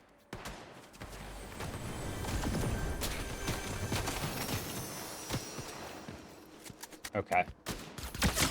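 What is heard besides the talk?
gunfire in Fortnite, a video game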